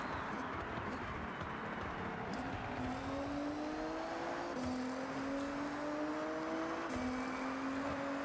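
Race car in Forza Horizon 6 driving steadily, the engine note climbing through gear changes under constant road and tyre rumble, no talk.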